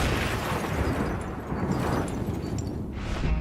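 A wine bottle bomb blast gives a sustained, rumbling explosive roar, loud and close, rolling on with no break and no voices.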